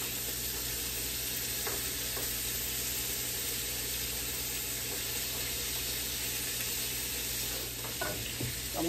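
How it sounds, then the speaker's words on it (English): Bacon sizzles steadily in a frying pan, a continuous crackling hiss with a few scrapes and light clinks near the end, and no voices. "Putting the bacon on now."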